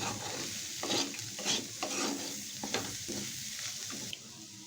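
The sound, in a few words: stirring raw peanuts in a pan on low flame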